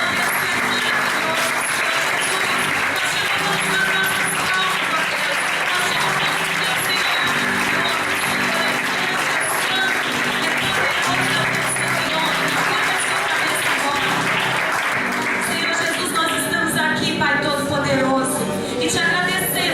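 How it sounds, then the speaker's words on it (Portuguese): A church congregation applauds during a worship service marking the church's anniversary, a dense, loud, continuous clapping that fills the room alongside music and voices throughout. "Você pode aplaudir ao Senhor."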